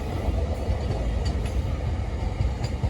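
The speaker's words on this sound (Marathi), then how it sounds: "ही ट्रेन इकडे जाते समोरून ट्रेन या साईडला येते" A train rumbles steadily along the track, a continuous heavy low roar with faint metallic clatter, close by and loud throughout.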